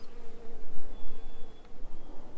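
Dense, continuous buzzing of many dark honeybees swarming close by at a hive, a droning hum with individual insects passing near.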